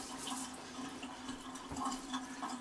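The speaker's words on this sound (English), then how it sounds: "And then we give our hands, of course, a bit of water." A tap runs for hand washing, giving a faint, steady stream of water splashing into a sink with no talk over it.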